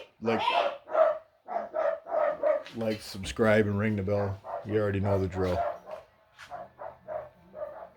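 Dachshunds bark and yip repeatedly in the background while a person talks over them.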